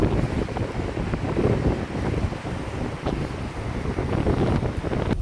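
Rushing, churning water of tidal reversing falls in Saint John, New Brunswick roars continuously, heavy wind buffeting the microphone over a dense, turbulent wash with no voices.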